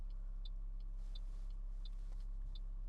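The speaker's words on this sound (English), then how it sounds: "Then there's another car" A car passes at a roundabout, heard from inside another car as a steady low engine rumble with a faint swell of a passing vehicle, alongside regular soft ticking clicks.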